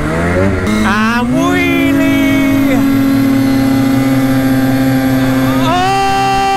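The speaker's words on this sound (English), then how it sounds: "So we're gonna have a wheelie competition." A vehicle engine roars loudly and steadily during a wheelie competition, its pitch climbing in a rising rev, holding high and strong, then surging upward again near the end.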